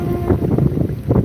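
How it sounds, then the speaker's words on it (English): Wind gusts outdoors rumble against a microphone on a tripod, a loud, uneven low buffeting that swells and eases in short bursts. "It's a little windy out here."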